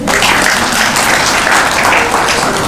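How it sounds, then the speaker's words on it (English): Steady, dense applause from a crowd of women at an iftar dinner, loud and continuous throughout with no pauses. "clap for yourselves"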